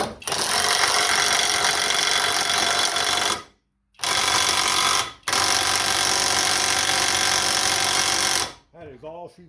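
A cordless Alloyman 20V brushless 1/2-inch impact wrench tightening a fastener, hammering loudly in two long bursts broken by short pauses, then a shorter third burst before it cuts off and a few faint squeaky sounds follow.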